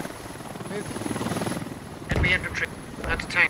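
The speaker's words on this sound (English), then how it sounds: "Chopper, get the fuck out of here." Helicopter thrumming through a Squad battlefield with steady rotor chop throughout, joined by louder bursts of gunfire or impacts in the second half while players talk over it on radio.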